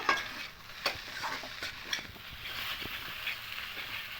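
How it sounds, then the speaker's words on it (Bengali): Ingredients with soy sauce and tomato ketchup are mixed together for a Maggi roll filling. Quiet stirring scrapes come in an uneven rhythm over a faint, steady sizzle, with no voices. "আর এখানে টমেটো কেচাপ দেবো এই সমস্ত উপকরণ খুব ভালো করে মিশিয়ে নেব"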